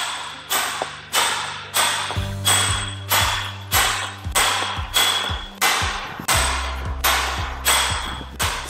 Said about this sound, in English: we're gonna start punching this back to remove the waste material